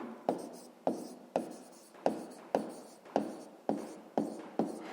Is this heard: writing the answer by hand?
yes